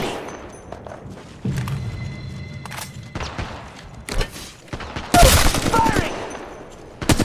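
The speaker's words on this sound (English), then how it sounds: "They're shooting at me!" Enemy gunfire in Apex Legends Mobile arrives as scattered bursts and thuds, with a loud cluster of shots near the end over a busy background.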